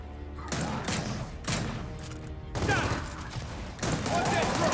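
Heavy gunfire bursts from a Gears of War 4 firefight, with loud repeated shots and blasts in several clusters, dense and close, with speech faintly mixed in.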